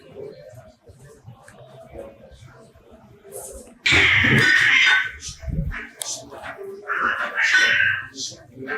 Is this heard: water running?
no